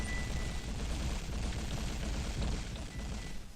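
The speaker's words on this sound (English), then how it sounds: "why don't we just go crazy really quick and just shoot all of our bombs?" Bombs exploding in the video game Paranautical Activity, a continuous rumbling barrage of blasts at steady loudness, dense and overlapping with no distinct gaps.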